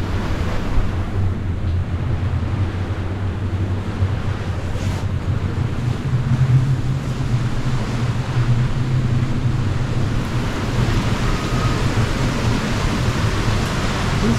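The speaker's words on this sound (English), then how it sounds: "This little storm just won't stop" Heavy rain and gusting wind batter a sailboat during a storm off Tahiti, a loud, steady roar with low rumbling and wind buffeting the microphone throughout.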